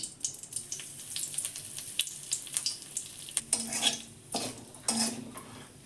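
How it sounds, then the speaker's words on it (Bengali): Bay leaf and asafoetida tempering in oil in a kadai, a light crackling sizzle mixed with metallic clinks and spoon scrapes against the pan, uneven and close. "আমি কড়াতে তেজপাতা দিলাম, হিং দেবো, একটু হিং দিলাম।"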